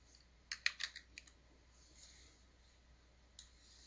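A quick burst of keystrokes typed on a computer keyboard, a handful of close, light clicks followed by a couple of isolated taps, faint and without talk.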